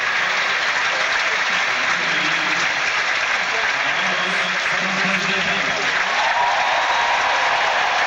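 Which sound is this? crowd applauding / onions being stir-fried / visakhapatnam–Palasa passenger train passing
crowd applauding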